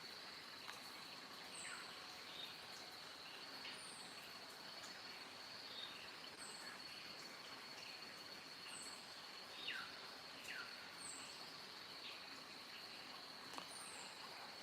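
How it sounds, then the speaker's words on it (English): Rainforest insects at dawn in Rassagala, Sri Lanka, hold a steady high drone throughout, while scattered bird chirps and short whistles come and go faintly above it. "Some very interesting insect noises coming from the jungle."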